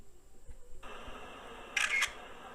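A camera shutter photo-capture sound effect, a single crisp mechanical click-and-snap heard once near the end, short and bright over a faint background hiss.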